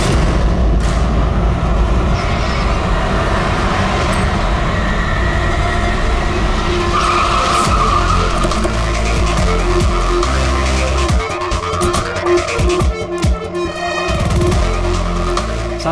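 Vehicle noise from a driverless car rolling along on its own, a steady loud rumble with a burst of tire skidding and screeching near the end, no talk over it.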